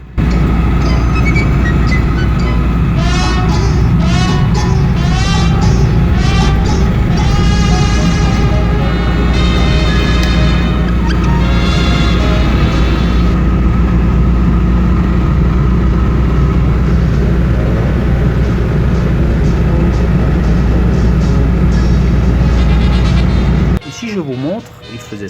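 Interior drone of a Citroën 2CV cruising at 70 to 80 km/h: a steady low engine and road rumble that continues throughout, with talking over it and squeaky high rattles in places.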